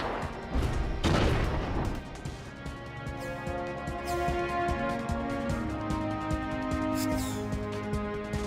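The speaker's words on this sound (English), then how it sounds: "And then it's gonna hit us with a grenade." A grenade explodes in Front Mission 5, a heavy boom early in the clip that fades into a sustained rumble beneath looping game music.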